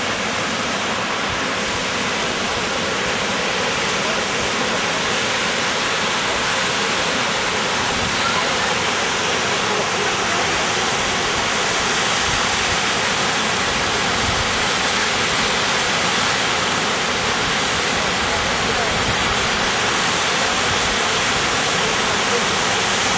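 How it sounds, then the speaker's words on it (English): Kepler's Cascade, a waterfall near Shoshone Lake in Yellowstone, roars in a loud, unbroken broadband rush that holds steady throughout. "This is called Kepler's Cascade."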